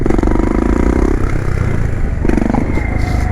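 Motorcycle engine held at a steady drone while the bike is ridden on its back wheel in a wheelie, loud and close, with a brief rise in pitch partway through.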